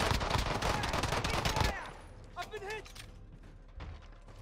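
Rapid automatic gunfire rattles loudly in an online battle game, a dense burst that cuts off abruptly, then gives way to quieter scattered mechanical and electronic game effects.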